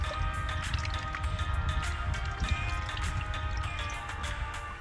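Fish being rinsed in water outdoors for a grilled steamed fish recipe, with soft splashing, dripping and squishy handling sounds in a steady, fairly quiet stream.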